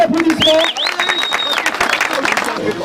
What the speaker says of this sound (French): encore un tonnerre d'applaudissements